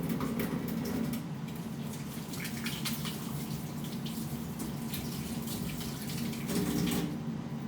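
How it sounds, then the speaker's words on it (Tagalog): Water from a tap runs steadily while a knife is washed under it, a continuous near splashing hiss with brief louder gushes at the start and near the end. "Hugasan ko lang pang kutsilyo."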